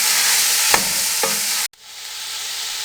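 Chicken and vegetables stir-frying in a hot pan for macaroni, a loud, continuous sizzle with two sharp spatula scrapes before the sound briefly cuts out and the sizzle resumes.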